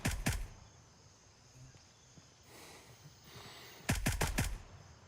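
Short bursts of gunfire in Gray Zone Warfare, one close rapid burst at the start and another a few seconds later, with quieter ambience between them.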